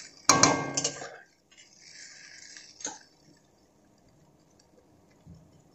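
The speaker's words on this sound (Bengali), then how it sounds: "এবার আমি দিয়ে দেব জল" Water poured into a pot of fried rice, a short loud splash with clatter at the start, then a softer steady trickle and a small splash, nearby with no talk.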